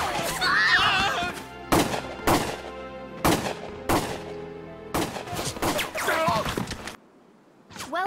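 Gunfire in the Valkyria Chronicles video game, a burst of sharp, loud shots in an uneven rhythm, with game voices and orchestral score mixed in before a brief quiet at the end.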